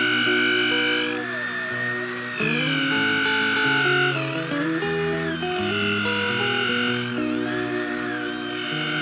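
A steady, whining electric drill fitted with a nail as its bit runs continuously, its pitch dipping and rising as it bites under load, loud and close with no talking.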